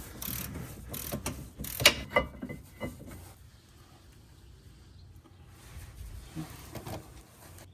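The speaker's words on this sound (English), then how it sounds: "Then take off the two larger 17mm bolts holding the caliper bracket. I used a torque wrench with a long handle to make it easier." A torque wrench clicks and ratchets while 17mm caliper bracket bolts come off a 2018 Toyota RAV4 XLE rear brake, with a burst of sharp mechanical clicks and clanks early, then quieter fiddling.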